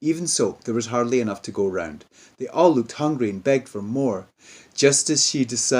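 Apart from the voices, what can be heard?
No distinct noise like a dog, phone or traffic.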